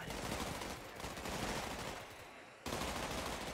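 Sustained gunfire rattles through a zombie real-time strategy battle in Cepheus Protocol, a continuous dense crackle of shots with a brief dip before resuming at full intensity.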